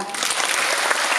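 An audience gives a brief, dense burst of applause at the close of a Korean performance of the comic operetta Die Fledermaus, a loud continuous clatter of many hands.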